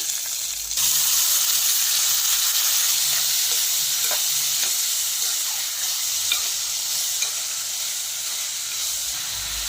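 Ginger frying in a pan for a cluster beans and coconut curry, a constant close sizzle and hiss with occasional light scrapes of stirring, steady and fairly loud with no talk.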